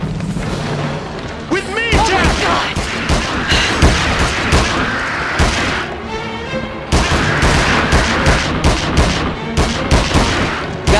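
A 9mm Luger pistol fires in the King Kong video game, with repeated loud shots and booming bursts over a dense action soundscape and voices talking.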